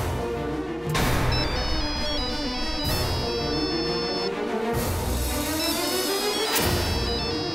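A phone ringtone plays a repeating electronic melody in a domestic drama scene, sounding in three or four bursts separated by short pauses, fairly prominent over a low background with no talk.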